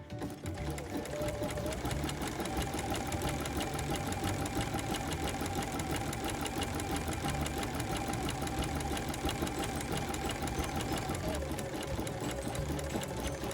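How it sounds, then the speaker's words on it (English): A sewing machine stitches appliqué fabric in one steady, loud, continuous mechanical whir with a fast needle chatter that runs unbroken from start to finish, with no voices. "Lifting my needle ever so slightly, dropping it down and continuing to sew now."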